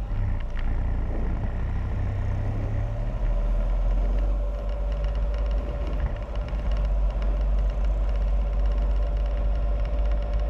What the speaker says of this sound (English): See if I remember how to ride the Spyder with the trailer attached.